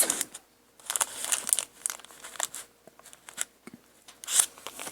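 Paper for handmade canning and grilling recipe books is handled close by, giving scattered crisp crinkles and rustles in irregular bursts with quiet gaps between, no speech.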